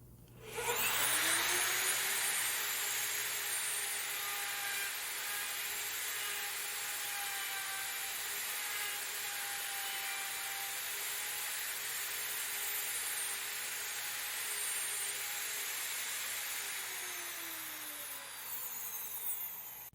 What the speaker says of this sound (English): Let the router bit touch the wood.